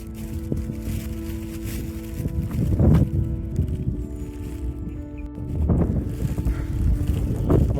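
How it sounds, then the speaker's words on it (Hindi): Cold wind buffets the microphone in rough, low gusts that swell and ease, with a couple of stronger blasts, at Sinhagad Fort near Pune; no talking. "अभी हवा चल रही है, बहुत ठंड हवा है यहाँ पर।"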